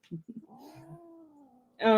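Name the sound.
cat meowing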